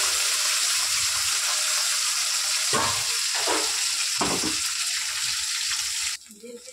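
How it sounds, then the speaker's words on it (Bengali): Garlic frying in a pan, a loud continuous hiss of sizzling oil with a few bursts of stirring, cutting off abruptly near the end. "রসুনটা ভাজা ভাজা হয়ে এসছে।"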